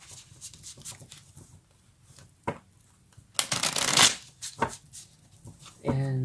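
A tarot card deck is shuffled in a run of crisp riffling bursts, loudest in the middle, with a voice speaking briefly near the end.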